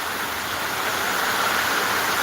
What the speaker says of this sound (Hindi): खूब झमाझम मूसलाधार बारिश होती हुई दोस्तों आप लोग देख सकते हैं